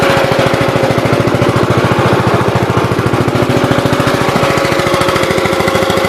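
A 1982 Gravely 8163-B walk-behind tractor, set up for plowing, runs steadily up close, its single-cylinder engine chugging in a loud, fast, even pulse with no talk over it.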